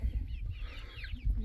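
Young silkie chicks outdoors for the first time make soft clucks and chirps over a low rumbling background, faint and brief, with no talking.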